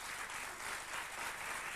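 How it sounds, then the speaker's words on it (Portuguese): Studio audience on a Portuguese afternoon television talk show applauds steadily, a dense, even wash of many hands clapping at moderate volume for nearly two seconds with no voices over it. "Merece Eu acho um que- aplauso por esta teimosia"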